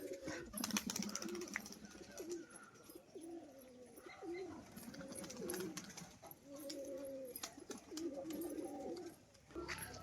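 Several pigeons coo continuously in low, rolling phrases nearby, overlapping one another with occasional chirps and rustling.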